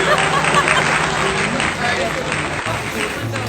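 A group of cousins getting ready for a night party together applaud in a dense patter of clapping, with chatter and voices mixed in throughout.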